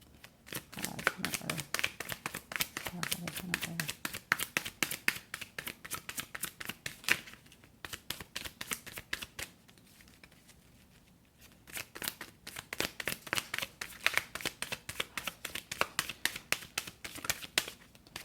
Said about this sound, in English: I'm a shuffler who shuffles until I get a card